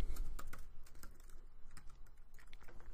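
Close, quiet keystrokes on a computer keyboard tap in an uneven, steady run for a few seconds while a paragraph is typed, with no talking.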